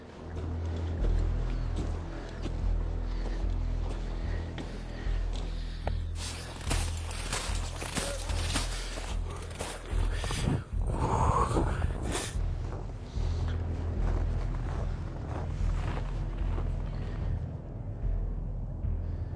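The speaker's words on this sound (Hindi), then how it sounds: "विमान का इंजन अभी भी चालू है।" Aircraft engine idling on the ground in Antarctica, a steady low rumble that carries on throughout, with wind buffeting and a few louder bursts of noise in the middle.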